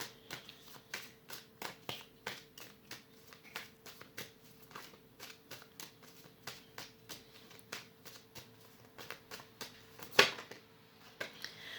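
Tarot cards being shuffled and drawn, a quick run of crisp, evenly spaced card flicks and snaps close by, with one sharper slap near the end and no talk.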